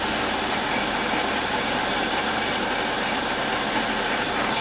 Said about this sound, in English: the motor's quiet. There's no real rattle